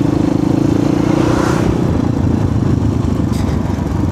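An Asian Beast 250 motorcycle engine runs steadily on a test ride, a close, continuous low rumble with a loud droning tone and no break across the stretch.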